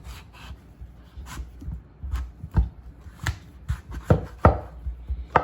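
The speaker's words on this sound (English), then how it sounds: "Now what we do is cut down the middle." A knife cuts a peeled papaya down the middle on a board, making a series of close, irregular thuds and soft crunching slices that grow stronger toward the end.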